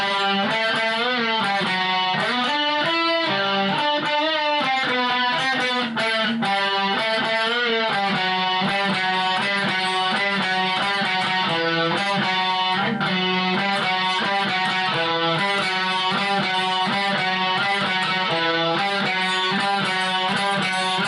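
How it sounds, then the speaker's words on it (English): A loud, dense electric guitar run through heavy chorus and distortion effects, with a grunge tone, plays continuously for about twenty seconds with no talking. "as long as you just have lots of chorus and lots of distortion"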